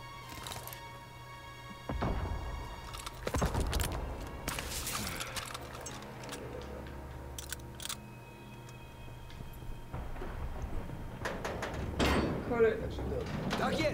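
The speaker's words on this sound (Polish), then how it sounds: "Trzeba otworzyć te drzwi!" Doors creaking and sliding open in the Call of Duty WW2 video game, with several clunks and scrapes over a busy game soundscape of ambient noise and distant effects, under speech.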